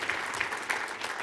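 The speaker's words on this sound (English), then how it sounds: "Round of applause for Yoda." An audience at the AAU Sullivan Award ceremony applauds a fencer, a short, moderately distant patter of many hands clapping evenly, with a few sharper claps standing out.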